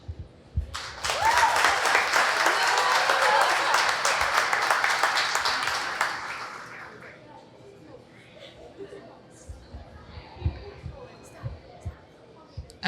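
A crowd at a county fair opening ceremony applauds the outgoing Fairest of the Fair. Loud, dense clapping lasts about six seconds, then fades into a quieter hall with scattered knocks and voices.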